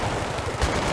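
Humvee turret gun firing in Battlefield 3, a short dense burst of rapid automatic shots.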